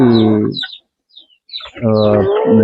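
Fighting-breed chickens on a poultry farm give loud, close cackles and crowing calls in two bursts separated by a brief quiet gap.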